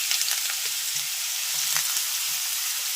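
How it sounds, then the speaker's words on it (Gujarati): Grated bottle gourd fries in peanut oil with cumin, giving a steady, close sizzle with soft stirring scrapes and no talk. "ત્યાર પછી આપણે ખમણીને જે તૈયાર કરેલું દૂધીનું ખમણ છે એને ઉમેરી દઈએ."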